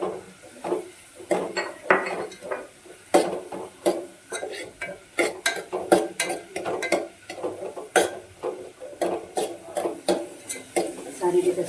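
Green garlic being sautéed in a pan for manchow soup, with a utensil repeatedly scraping and clinking against the metal in a busy, irregular rhythm, close and fairly loud throughout.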